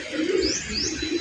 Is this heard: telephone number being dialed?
no